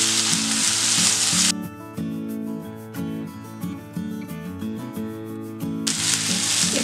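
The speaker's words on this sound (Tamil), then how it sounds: "இப்போ இந்த வெங்காயத்தை நல்லா கோல்டன் ப்ரௌன் ஆகிற வரைக்கும் நல்லா வதக்கி விட்டுடலாம்" Onions sautéing in a pan with salt until golden brown, a strong close hiss of frying at the start and end, with melodic music playing over the middle.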